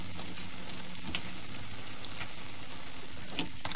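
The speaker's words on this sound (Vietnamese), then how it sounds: "Rồi mình chiên cho tới khi mà nó vàng và giòn." Potato balls deep-fry in hot oil with a steady, close sizzle and scattered crackling pops throughout.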